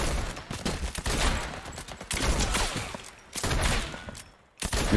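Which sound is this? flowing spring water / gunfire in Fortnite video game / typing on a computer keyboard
gunfire in Fortnite video game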